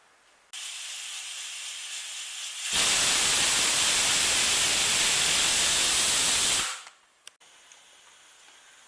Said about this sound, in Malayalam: ഇപ്പോൾ ഒരു വിസിൽ നമ്മൾ അടിച്ചിട്ടുണ്ട്.